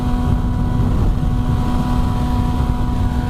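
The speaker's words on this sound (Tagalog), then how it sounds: "Ayoko ng gantong kahangin." A Gsxr600 sport motorcycle on a windy highway fills the air with a steady, dense roar of rushing wind and engine drone, loud and unbroken throughout, with a faint constant whine on top and no talking.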